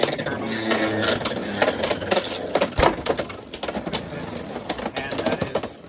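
Beyblade X spinning tops, including Pegasus Blast, are launched and battle in a plastic stadium, giving rapid clattering collisions and grinding whirr with frequent sharp clicks, close up, while a person talks.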